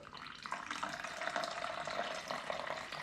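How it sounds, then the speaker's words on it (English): Water poured from a container into a measuring jug for a snow foam mix, a steady splashing trickle lasting a few seconds, close and fairly quiet. "And then 250 ml of water."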